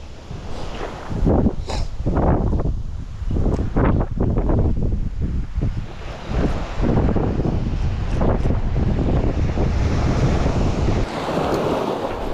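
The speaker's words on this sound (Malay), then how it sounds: "Ini angin agak kencang" Strong wind buffets the microphone at the shore during ultralight fishing, with loud irregular gusts rumbling and surging continuously over the wash of waves, no voices heard.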